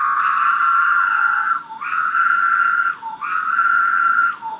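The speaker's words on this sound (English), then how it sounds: "So these are some of the sounds you hear if you go out and listen to cicadas." A loud, buzzy insect call repeats in long sustained phrases, each ending with a brief dip before starting again, close and alone.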